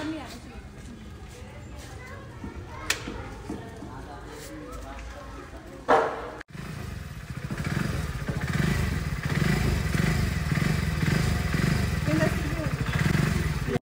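New motorcycle heard at close range: quiet handling clatter and thumps, a sharp knock, then the engine catches and runs with a steady, louder rumble through the second half, with voices talking faintly around it.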